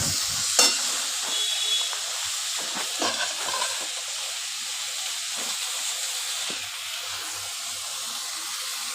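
Bottle gourd peel and vegetables with green chilli paste stir-fry in a hot pan, giving a steady sizzling hiss with occasional scraping strokes of a spatula, close and without talk.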